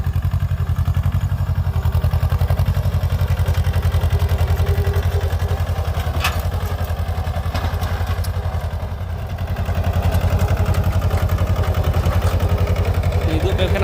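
A mini tractor engine runs in a steady, loud, rapidly pulsing chug near the microphone for the whole stretch, dipping briefly around the ninth second before picking up again.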